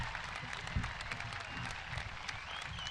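Audience applause at a high school commencement ceremony for the class of 2023, a steady broadband patter of many hands clapping in a large hall, moderately distant and even throughout.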